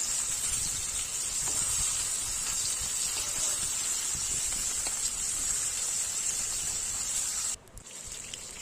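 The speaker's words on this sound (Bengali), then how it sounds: "দেখুন আলতো হাতে মাছ ওলট পালট করে ভেজে নিচ্ছে" Tilapia fish fries in a pan with a dense, steady hiss of oil, heard up close and alone, ending in a brief dip near the end.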